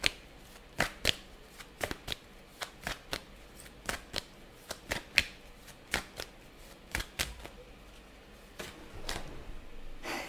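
Tarot cards are shuffled by hand in a steady series of crisp riffling snaps, close and clear against a quiet background, with no talking.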